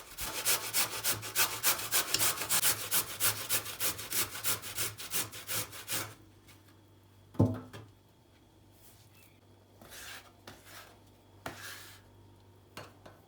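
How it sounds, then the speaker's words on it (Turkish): Carrots rubbed over the fine side of a kitchen grater give a fast, rhythmic rasping scrape, close and loud, before stopping; a few scattered clunks and scrapes follow. "Rendelemeyi ister ufak tarafıyla ister büyük tarafıyla yapabilirsiniz."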